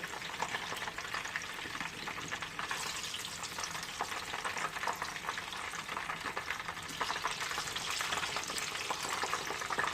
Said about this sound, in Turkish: ben diğerlerini de kızartıp bu şekilde devam edeyim